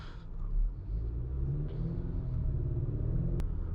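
A 2020 Acura RDX's turbocharged engine pulls hard in Sport Plus mode, a steady low rumble swelling as it accelerates, heard from inside the cabin with no talking.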